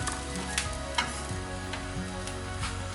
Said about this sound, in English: while the coconut is slightly getting fried off